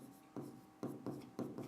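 Someone writes by hand during a physics lesson, producing short, quiet scratching strokes in a few bursts separated by brief pauses, very faint and close, with no voice over it.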